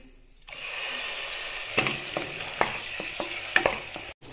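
A steady, loud sizzle of ground masala paste frying in hot oil and ghee for mutton biryani, with a few scraping stirs and clicks of a spoon against the pan.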